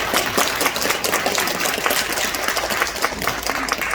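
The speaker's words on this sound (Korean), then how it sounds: "이런 박수 좀 쳐주셔야 되는데요." Clapping from an audience at a political candidacy announcement in Sejong, a sustained burst of many hands with sharp individual claps standing out over a dense, busy patter.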